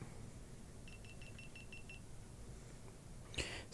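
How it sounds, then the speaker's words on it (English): A GoPro camera gives a quick run of about seven short, faint electronic beeps in even rhythm, followed by a brief click or thump over steady background hiss. "Sound like a GoPro. Beep, beep, beep."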